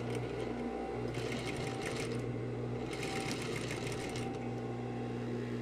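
Sewing machine stitching back along the same dart seam on fabric, a steady close mechanical whir with rhythmic needle clatter running continuously, with brief changes in pace.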